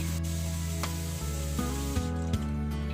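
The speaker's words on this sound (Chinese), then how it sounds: "全部剪好后，我们用流动的清水把它清洗干净" Water runs steadily over 100 grams of cut cogon grass roots, a continuous broadband hiss and spray lasting the whole few seconds, with a faint steady tonal hum underneath.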